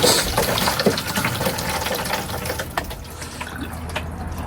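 Water drains from a newly installed camper van sink, a continuous close gushing and gurgling rush that slowly eases in loudness.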